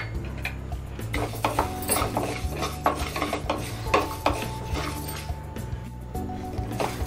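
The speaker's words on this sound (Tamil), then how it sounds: "கை விடாமல் நம்ம வறுத்துக்கிட்டே இருக்கணும்" Broken black urad dal dry-roasted and stirred continuously in a pan over a low flame for horse gram idli podi, with a steady scrape and rattle of the spatula and frequent metallic clinks, no voices.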